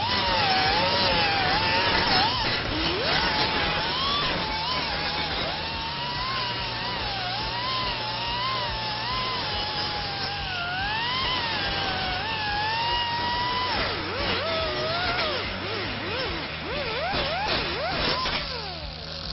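An angle grinder fitted with a 50 grit disc works a steel panel, a continuous loud whine with wavering pitch as pressure shifts, close and steady throughout.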